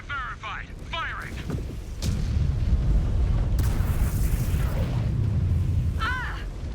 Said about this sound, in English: Target verified. Firing.